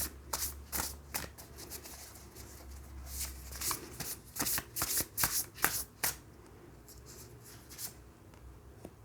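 Tarot cards being shuffled by hand, a run of crisp riffling bursts and soft slaps at close range, quiet and irregular, with a low hum early on.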